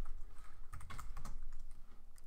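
Quick clacking keystrokes on a computer keyboard come in a dense, irregular burst, close and fairly quiet, with no talking.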